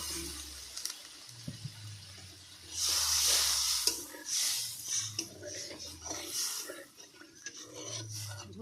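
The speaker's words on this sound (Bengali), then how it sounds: "মশলাটা কষানো হয়ে গেছে এবার আমি জল দিয়ে দিলাম" Water poured into hot fried masala for a vegetarian egg curry hisses and sizzles loudly in a pan, a broad steady rasp that swells and fades in waves.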